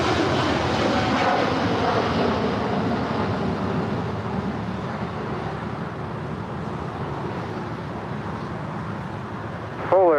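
An American Airlines jet landing on runway 25 left at LAX, a loud broad roar of engines and rushing air that holds steady and slowly fades over several seconds, heard from nearby with no voices over it.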